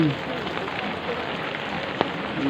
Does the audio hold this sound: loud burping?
no